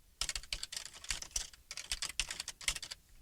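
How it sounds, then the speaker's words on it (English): Rapid keystrokes on a computer keyboard while entering a MySQL command, clattering in quick uneven bursts with brief pauses, close and clear with no talking. "I'll type describe numerics"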